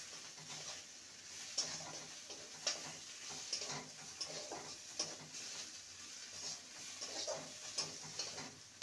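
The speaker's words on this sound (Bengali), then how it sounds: "ভালো করে নেড়ে নেব।" A pumpkin leaf mixture with torn dried chillies is stirred in a pan: a quiet, soft sizzle broken by light spatula taps about once a second.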